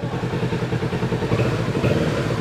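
A 2023 Kawasaki Z650 motorcycle engine runs nearby with a loud, steady throbbing idle that swells slightly as though being revved.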